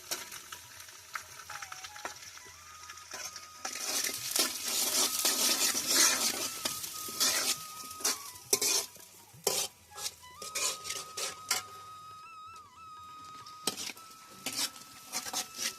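Garlic, cumin and coconut sizzle in a pan while a metal spoon scrapes and clinks steadily against it, close and continuous with frequent sharp taps.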